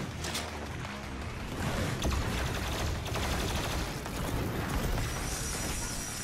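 Missile barrage and explosions in the shooter game Doom Eternal, loud and dense with mechanical clatter and rapid blasts filling the whole stretch, no voices.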